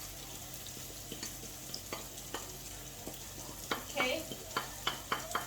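Cracked black pepper being stirred into onions frying in a pan for a creamy peppercorn sauce. A steady sizzle runs under repeated scraping stir strokes that grow louder and more frequent toward the end, with a brief spoken word near the start.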